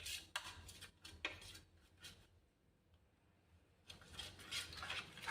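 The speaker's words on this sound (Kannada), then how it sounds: "ಉಪ್ಪು, ಮಸಾಲೆ ಈ ಥರ ಕಲಿಸ್ಕೊಳ್ಳೋಣ" Salt and spices are mixed by hand into tamarind in a bowl, making clinking and scraping in bursts that pause briefly midway, then resume busily and fairly close.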